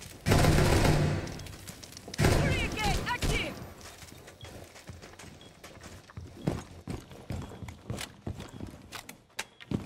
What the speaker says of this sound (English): I've been targeted by Deimos. Shooting me through the floor.